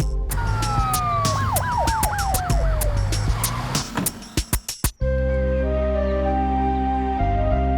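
An ambulance siren wails in rising and falling sweeps, then gives way to a burst of clatter and a steady low hum.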